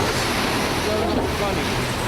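Strong wind roars steadily around a sablefish fishing boat at sea as it heads into a hurricane, with waves surging beneath in a dense, constant wash of noise.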